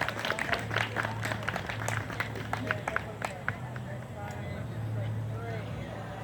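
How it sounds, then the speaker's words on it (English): An audience at a freethought day gathering applauds with steady, dense clapping that holds throughout, fairly close and lively, with a few voices murmuring underneath. "give yourselves a round of applause for Robert Ingersoll"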